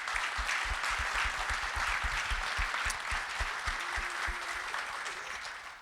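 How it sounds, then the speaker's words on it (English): An audience at a leadership roundtable conference gives a sustained round of applause, a dense steady patter of many clapping hands that slowly tapers off toward the end. "Can we give them another round of applause for everybody there?"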